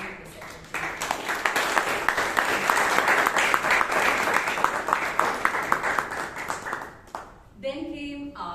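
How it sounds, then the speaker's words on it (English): Warm audience applause at a Toastmasters club meeting in Bangalore, steady rhythmic clapping for about seven seconds before dying away, after which a voice begins speaking. "The committee also deserves a big round of applause along with the secretary."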